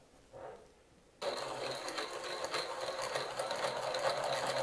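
A stepper motor driven by a DRV8825 driver turns a 3D-printed compliant harmonic drive, starting abruptly after a quiet moment and then running with a steady, close mechanical whir and buzzing hum, alone and without speech.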